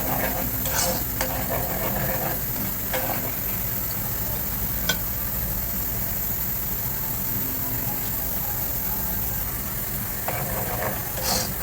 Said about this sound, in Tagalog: ilagay natin yung bawang muna. Ayan, hayaan natin hanggang sa mag golden brown yung bawang